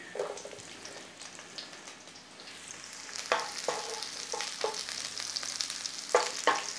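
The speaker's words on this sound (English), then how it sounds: "It's a quick fry on here, flame not too high." Garlic frying in ghee in a hot pan over a moderate flame, a steady quiet sizzle with a few sharper crackles and spoon stirs near the end, no talking.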